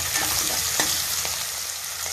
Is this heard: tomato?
yes